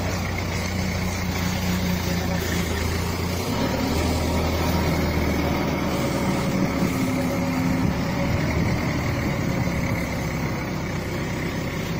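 A truck drives with a steady, heavy diesel engine drone and low rumble throughout, the pitch shifting slightly a few seconds in, loud and continuous with no voices.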